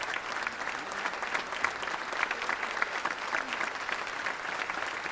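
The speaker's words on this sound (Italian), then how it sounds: "L'applauso scrosciante" Thunderous applause fills a theatre, a dense, steady roar of many hands clapping that holds evenly throughout, loud and continuous.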